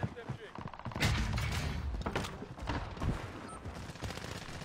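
Video game gunfire crackles in scattered bursts and thumps of a firefight, fairly distant, with a player talking over it in a live online match.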